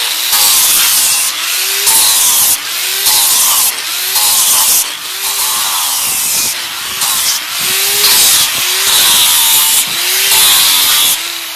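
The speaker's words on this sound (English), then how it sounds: "this angle grinder is nothing more than an electric motor that spins this disc in one direction, creating friction, sanding down that wood" A 7.5-inch angle grinder fitted with a 36 grit disc sands down wood, a loud continuous abrasive whir that swells and dips in repeated passes about once a second, with no talking.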